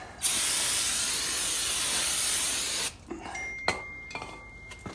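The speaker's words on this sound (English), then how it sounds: "You do need to spray it. Some brake cleaner." A loud, steady aerosol hiss of brake cleaner sprayed on a 2011 Buick Enclave brake rotor for several seconds, then stops abruptly, followed by faint drips and light metallic clicks.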